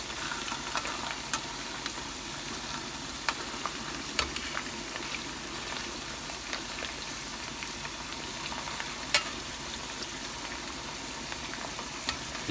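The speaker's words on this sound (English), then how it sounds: "you're not frying them, you're sauteing them." Beef pieces for beef afritada, a Filipino beef stew, sauté in a hot pan with a steady crackling sizzle and scattered sharp pops, stirred now and then, with no voices over it.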